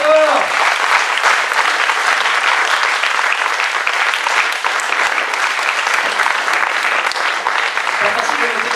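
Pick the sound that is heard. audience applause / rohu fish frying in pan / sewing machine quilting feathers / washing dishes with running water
audience applause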